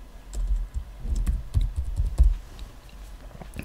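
Keystrokes on a computer keyboard as a short variable name is typed, a quick irregular patter of close clicks with a few louder taps, no talking.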